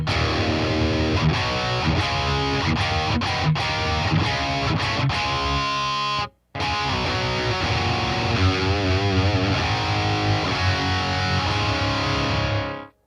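A heavily distorted electric guitar plays chords and riffs through a BOSS Katana MK2 amp with high cut at 10K, loud and saturated, with a brief silent gap midway before it resumes.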